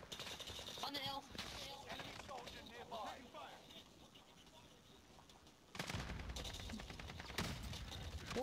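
Video game gunfire in a combat shooter, rapid bursts of shots crackling over a noisy battle mix, with a dense loud volley near the end and voices talking through it.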